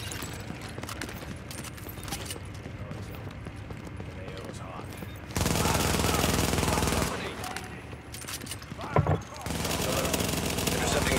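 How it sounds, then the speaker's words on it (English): Sustained automatic gunfire in a first-person shooter game, dense bursts rolling on throughout with a louder stretch midway, under radio-style voice chatter. "Reporting gunfire in the station above us."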